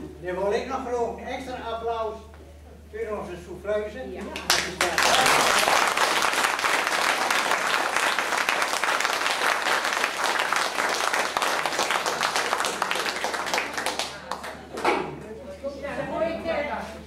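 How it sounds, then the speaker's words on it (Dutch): Audience applause after a Dutch amateur theatre performance, a sustained burst of clapping lasting about ten seconds, with someone speaking just before and after it. "dan wil ik nog graag een extra applaus voor onze souffleuse"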